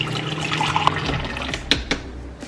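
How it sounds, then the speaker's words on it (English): Hot water pours briefly from a water thermos into a cup, a short gurgling trickle that ends with a couple of soft clinks. "Hot water."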